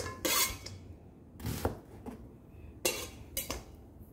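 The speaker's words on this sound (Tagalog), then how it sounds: "So, hiwain ko siya ng paganyan" A knife cuts red chili on a board in a home kitchen, giving several crisp scraping slices in irregular bursts with pauses between them, close and fairly loud, with no talking.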